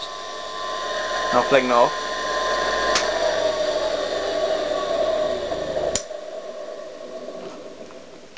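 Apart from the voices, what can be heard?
restored lathe electric motor running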